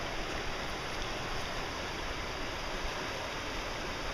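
Havasu Creek flowing near a campsite, a steady, even rush of water that holds at a constant moderate level throughout with no voices.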